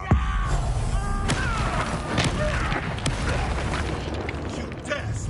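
A Confringo fire spell blasts in Hogwarts Legacy amid dense, continuous combat noise, with booming impacts and bursts layered under voices and a steady game soundtrack.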